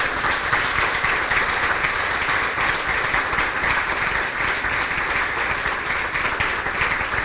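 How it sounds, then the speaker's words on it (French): An audience at a carbon-responsibility certification launch event applauds steadily and evenly for the full length, with dense clapping and no voices standing out. "Je pense que ça mérite une bonne main d'applaudissements."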